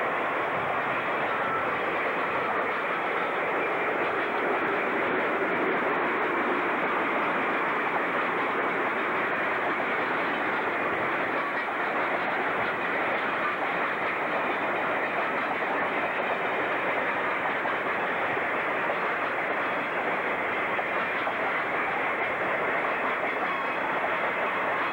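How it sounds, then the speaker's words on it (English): Ontario Northland northbound Extra 1730 rolls past at Iroquois Falls, Ontario, in winter snow, a steady loud wash of rail and wheel noise holding for the whole stretch with faint clickety-clack and no voices. "We're at Iroquois Falls, Ontario, as northbound Extra 1730 passes by"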